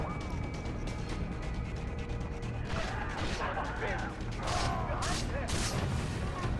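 A grenade blast amid heavy automatic gunfire during a Far Cry 3 firefight, with body-armored enemies; dense, loud and continuous combat noise with sharp crashes and a voice over it.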